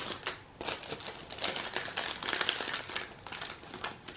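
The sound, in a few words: opening a package of mushroom stickers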